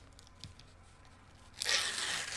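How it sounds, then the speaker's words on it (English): Paper topping peeled off sticky embroidery stabilizer, a brief rasping tear that starts suddenly after a quiet moment and continues as a close, fairly loud sustained rip. "And then you can remove that paper topping"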